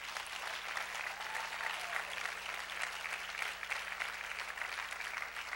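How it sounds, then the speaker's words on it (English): A crowd at a church service applauds steadily, a dense wash of clapping that holds at an even level throughout with a faint low hum underneath. "Let's give him a hand clap."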